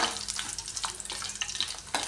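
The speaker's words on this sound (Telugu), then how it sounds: "మంచిగా ఫ్రై చేసుకుందాం" Curry leaves and tempering spices fry in hot oil in a pan, a steady close sizzle with brief stirring scrapes and small crackles throughout, no voices.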